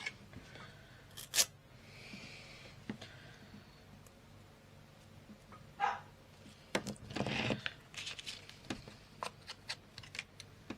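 A dog barks a few scattered times indoors, somewhat distant and faint, over a quiet room tone with light tapping and handling sounds between the barks.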